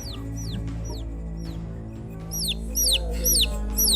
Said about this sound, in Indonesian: Beneran itu mah ayam